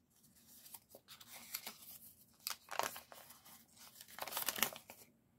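A Star Wars Retro Collection Boba Fett action figure is worked free of its plastic blister packaging, with close, quiet crinkling, crackling and tearing of thin plastic in uneven bursts and no speech.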